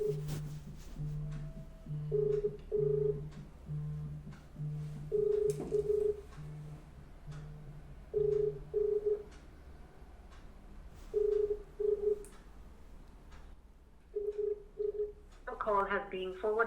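An outgoing phone call on speakerphone, repeated two-tone ringback pulses in a steady rhythm, moderately loud and close, with a voice talking over the end.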